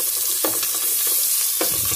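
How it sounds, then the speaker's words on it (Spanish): Onion frying in a pan for chicken and wheat stew, a bright continuous sizzle close by, broken by a few soft stirring scrapes. "Vamos a hacer con la cebolla se fría un poco."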